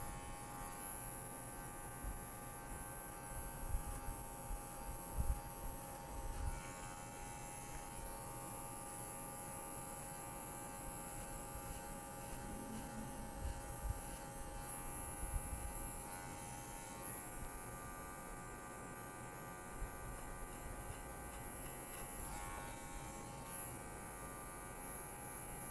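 Electric hair clipper buzzing steadily while cutting a fade, a close constant motor hum running the whole time with small bumps as the blade moves through the hair, no voice.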